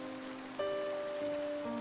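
Rain falls steadily as a soft, faint hiss, with low sustained tones running underneath for a short stretch and no voices.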